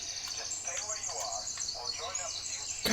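Small birds chirp and tweet repeatedly in the video game Blair Witch, steady and fairly close, with faint ambient hiss underneath.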